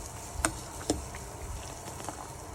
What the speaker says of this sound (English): Make it boil like this. You can see this is boiling now.